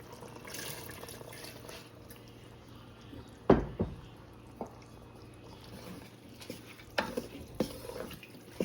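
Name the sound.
pouring mixed lentils into the haleem pot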